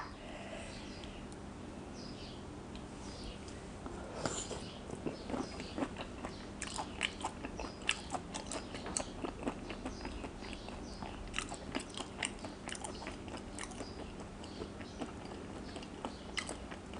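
Someone bites and chews crunchy raw shrimp close to the mic, a long run of crisp wet crunches and chewing sounds in an uneven rhythm, with no talk.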